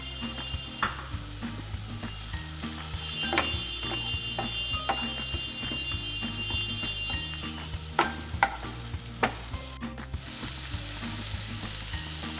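Finely chopped tomato sizzles and fries in a pan for egg bhurji, with steady crackling under repeated scraping stirs and occasional sharp clicks of the utensil against the pan; no one speaks.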